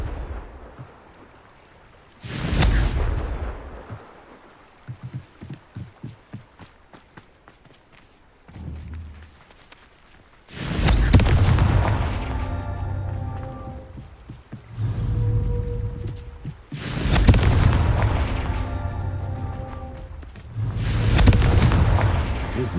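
Hogwarts Legacy Confringo spell blasts erupt as several loud, booming explosions spaced through the scene, each a broad rumbling burst with a decaying tail, separated by quieter stretches of rapid footsteps and thuds.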